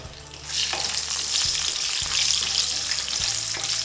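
Salt and green chilies sauté in a hot pan of oil for Bengali fish curry with curd: a loud, steady frying hiss that swells after a quiet start, with a few soft stirring knocks and no talk.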